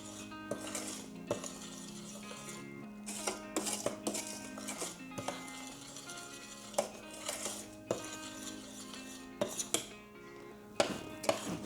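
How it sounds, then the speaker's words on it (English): A spoon clinking against a pot or bowl while vanilla extract is stirred into a dissolved sugar mixture, repeated light metallic taps and scrapes in an irregular rhythm, close and fairly quiet. "So I am going to add in our vanilla extract. Give that a little stir."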